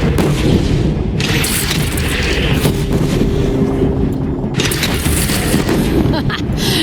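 Cannon fire booms out in Horizon Zero Dawn combat, heavy loud blasts and rumbling impacts piling onto one another in a dense, continuous barrage with scattered gunfire.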